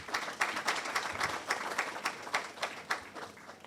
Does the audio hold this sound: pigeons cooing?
no